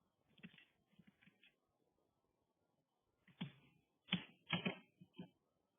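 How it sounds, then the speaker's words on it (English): Keys clatter on a computer keyboard as a formula is entered, with a short burst of clicks, a pause, then several more quick taps, all faint and close with no talking. "I'm just typing in the formula that's already displayed"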